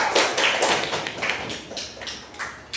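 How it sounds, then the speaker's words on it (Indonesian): A school class applauding: a few distinct, fairly loud claps in a loose, uneven rhythm, close by, fading slightly toward the end with no talking. "Tepuk tangannya dong"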